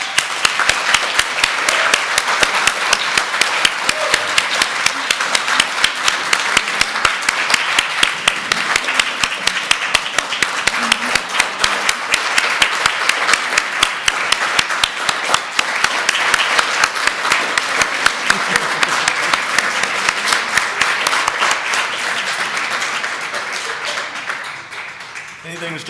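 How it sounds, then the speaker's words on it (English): Sustained audience applause at an awards dinner fills the clip, steady and loud, with dense clapping throughout before tapering slightly near the end. "Anything to stop that applause."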